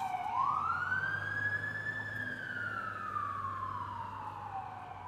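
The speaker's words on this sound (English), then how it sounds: "there's no like good way to block that sound off of like sirens and stuff" A single emergency vehicle siren on a Toronto street wails upward and slowly falls away, loud and sustained, over a low engine rumble.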